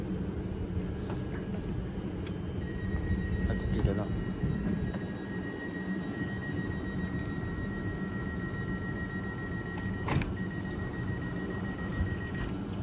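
A crowded passenger train bound for Pisa rumbles steadily, and a thin high metallic squeal runs through the middle. People talk nearby over the low, continuous noise.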